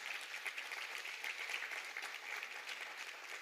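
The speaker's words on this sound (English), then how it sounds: "let us just give them a round of applause" Sustained applause for award recipients at a regional top-award ceremony, a dense wash of many hands clapping at a steady level, fairly quiet and distant, with no talk over it.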